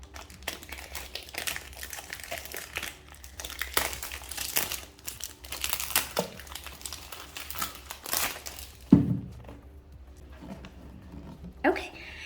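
Crinkling and tearing of sturdy Dior Homme Intense perfume packaging during an unboxing, bursts of crumpling and rustling close to the mic, mixed with talk and pauses.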